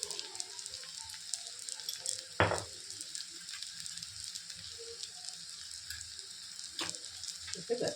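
Banana flower sautés in a pan with a soft, steady sizzle, broken by a couple of sharp clinks of a spoon scraping the pan.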